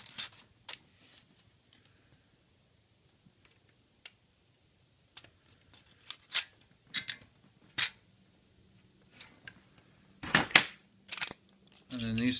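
Scissors cutting pieces for a homemade alcohol stove, a scatter of sharp close snips and clicks with quiet gaps between, growing busier toward the end.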